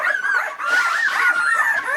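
Young puppies whine and whimper, a high wavering cry held close and clear for a couple of seconds with no talk.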